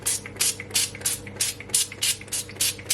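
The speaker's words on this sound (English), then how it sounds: "Then I'm gonna spray some oil on my grill." Quick rhythmic hisses from a spray bottle spraying cooking oil onto a grill rack, about ten short pumps in a steady beat, close by with no talking.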